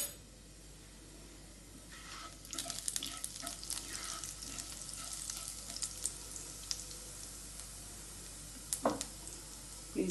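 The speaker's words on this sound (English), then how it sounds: "In the same pan, add a little more oil and just put some jeera to roast." Cumin seeds roast in a pan of hot oil, giving a steady close sizzle with crackly pops and spits that flare up sharply now and then, with no voices.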